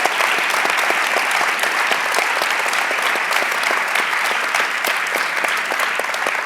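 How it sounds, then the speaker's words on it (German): Sustained audience applause at a University of Bonn public lecture evening on dreams and sleep, honoring Professor Dr. Ulrich Ettinger; dense, even clapping from a large hall crowd, steady and loud throughout with no voices. "Ein Applaus für Professor Dr."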